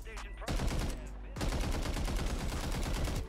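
Rapid automatic gunfire rattles from a weapon in a ranked Rebirth shooter match, a short opening burst followed by a sustained, loud, evenly paced stream of shots.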